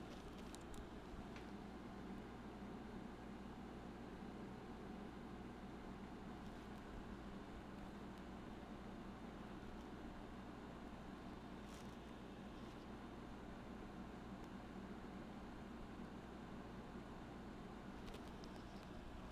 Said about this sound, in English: lower the mic so you don't constantly hear the hum of the AC unit going off here